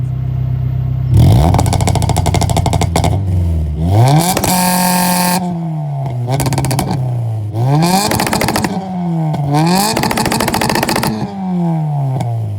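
A chipped Honda B18C1 engine running a P28 ECU, doing launch control and fuel cut, revs hard again and again, bouncing off the limiter with rapid stuttering cuts between loud, close, rising and falling sweeps.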